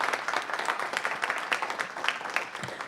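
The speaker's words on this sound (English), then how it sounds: "Give them a round of applause," Brief, fairly quiet applause from the audience at a city council meeting: a patter of scattered hand claps that lasts only a few seconds.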